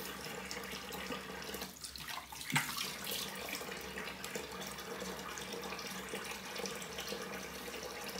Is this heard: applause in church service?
no